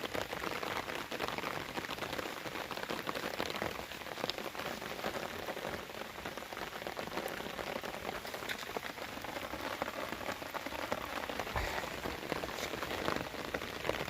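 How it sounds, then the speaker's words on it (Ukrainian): Steady rain falling and pattering on surfaces nearby, a constant even hiss with no talking. "У нас щоб сильно, не сильно, але йде дощ"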